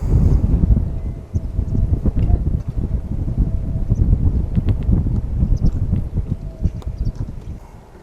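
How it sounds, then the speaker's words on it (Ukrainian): Strong wind at a lake buffeting the microphone with a steady, low rumble and gusty thumps throughout, loud and close. "Сильніше став дути вітер"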